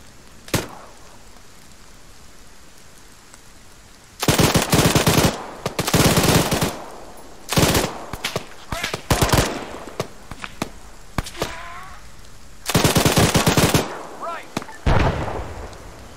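Machine gun covering fire in a Chernarus combat video game, loud sustained bursts of automatic fire repeating in several long volleys with short gaps, plus a few isolated single shots earlier on.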